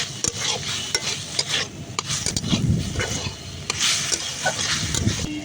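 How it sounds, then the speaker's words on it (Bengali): Ginger garlic paste frying in a pan while being stirred, a continuous close sizzle broken by repeated scraping strokes of the spatula across the pan, moderately loud with no talk. "আদা রসুন বাটা দিয়ে খুব ভালো করে আবারও কষিয়ে নেব"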